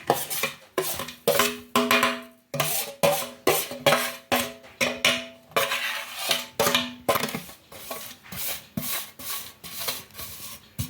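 Roasted dry fruits and semolina stirred together in a hot pan, a spoon scraping and rubbing against the metal in steady repeated strokes, close and loud with no talk.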